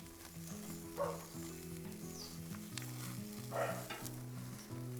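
Meat on braai coals, basted with lemon, sizzles and crackles quietly and steadily, with faint pops rising now and then, while soft music plays in the background.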